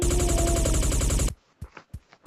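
A rapid burst of automatic gunfire rattles loudly for over a second, then stops, followed by a few scattered clicks and thumps.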